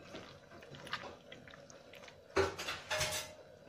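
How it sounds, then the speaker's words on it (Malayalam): Quartered lemons being rubbed with salt inside a vessel for Kerala-style lemon pickle give soft, irregular clinks and scrapes, with a louder cluster of clatter near the end. "ഇനി നമുക്കിതിലേക്ക് ഉപ്പൊക്കെ ഇട്ട് നന്നായിട്ടൊന്ന് തിരുമ്മിയെടുക്കണം"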